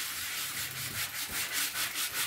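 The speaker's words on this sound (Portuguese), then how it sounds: "Vou virando e lixando por igual." Sandpaper rubs back and forth over a rubber flip-flop in a steady, even rhythm of close, gritty strokes.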